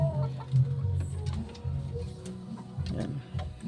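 A fighting rooster at a cockfight clucks in low, repeated bursts, set against a steady murmur of background noise.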